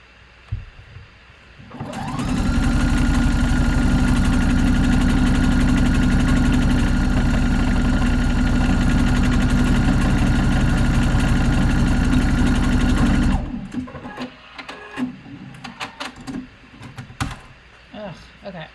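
A sewing machine stitches a buttonhole, whirring steadily and loudly for about eleven seconds before stopping, followed by quiet handling clicks.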